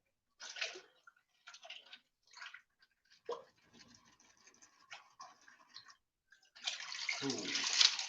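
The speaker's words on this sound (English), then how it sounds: "So I'm just going to dump this water in here." Water dumped from a container during rock tumbling, several splashing pours in short bursts with pauses between, ending in a longer, louder gush close by.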